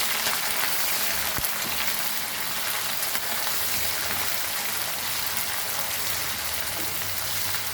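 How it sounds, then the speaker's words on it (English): Chilies frying over a medium flame for Goan mango pickle, with a steady, even sizzle of hot oil that continues close and unbroken throughout and no talking. "And fry this nicely."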